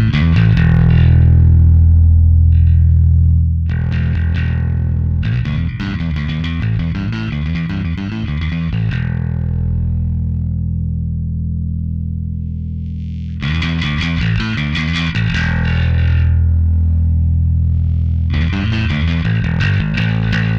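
An electric guitar runs through a SansAmp distortion pedal, giving a gritty, saturated tone with chugging chords and sustained ringing notes, played loud and close with brief pauses between phrases.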